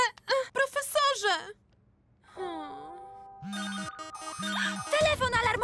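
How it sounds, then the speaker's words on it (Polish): A cartoon emergency telephone rings in electronic bursts, loud and close, with a gasping voice just before and speech-like vocal sounds over the later rings. "Telefon alarmowy!"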